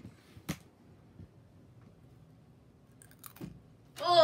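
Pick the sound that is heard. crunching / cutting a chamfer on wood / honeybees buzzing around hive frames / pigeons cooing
crunching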